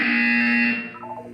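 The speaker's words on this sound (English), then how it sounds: "You will hear a buzzer." A steady electronic buzzer tone from the video game Portal drones loudly for under a second, then cuts off, leaving a faint warbling tail.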